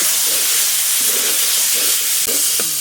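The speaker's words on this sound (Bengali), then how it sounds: "ভালো করে কষিয়ে নিচ্ছি" Curry being stirred and sautéed in a pan late at night gives off a steady, loud sizzling hiss throughout, with a few faint clinks of utensils and no voices.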